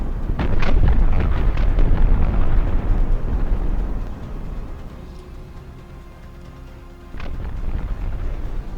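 A turret blows up in a naval warship game set in 1915, a loud, deep rumbling explosion at the start that fades into quieter background sounds, followed by a further sharp burst near the end.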